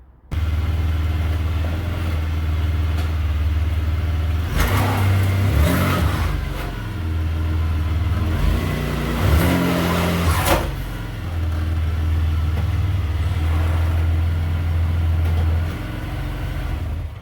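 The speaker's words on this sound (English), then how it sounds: "I'm going to now drive the car onto the ramps." A 1997-2004 Buick Regal engine idles steadily, then revs twice as the car is driven up onto ramps, the engine loud and close throughout with a steady low hum between the two pushes.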